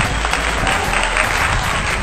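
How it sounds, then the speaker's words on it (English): Audience applause at a Women's International Month celebration, a steady dense wash of many hands clapping together, fairly loud and continuous for a couple of seconds with no talk over it. "let's have a round of applause"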